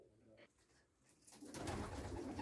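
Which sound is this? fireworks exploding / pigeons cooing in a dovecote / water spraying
pigeons cooing in a dovecote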